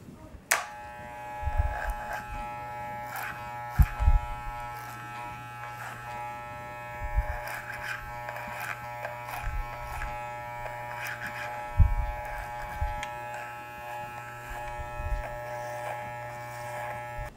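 Electric hair clippers cut a man's hair over a comb, a steady close buzz with a constant hum running throughout, broken by small clicks and louder bursts as the blades bite.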